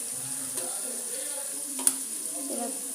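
Broad beans fry in a pan for chutney, a soft, low sizzle with an occasional light stir or clink. A high steady hiss runs underneath, and no one speaks.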